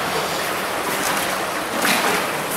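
Setun River rushing through an underground sewer pipe beneath Moscow, a loud, continuous broadband roar of flowing water echoing in the tunnel, with no talk.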